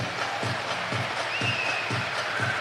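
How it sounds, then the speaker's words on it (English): At a men's basketball game against Middle Georgia, a crowd in the arena claps together in a steady rhythm, about two claps a second, under a continuous wash of crowd noise. "Everybody clap your hands"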